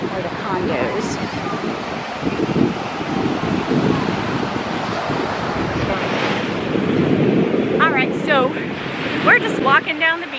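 Ocean surf rolling onto a beach at Panama City Beach, a broad steady wash of breaking waves mixed with heavy wind buffeting the microphone. Voices can be heard talking over it toward the end.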